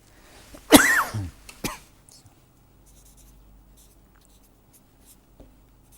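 A lecturer writing during a lecture, with a brief scratchy stroke and a sharp cough-like burst near the start, followed by faint sparse taps in a quiet room.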